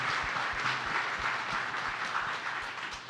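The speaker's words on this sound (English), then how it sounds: "now we can have a round of applause for real." Audience at a community crowdfunding event gives a round of applause, a steady wash of many hands clapping at moderate volume with occasional low thumps.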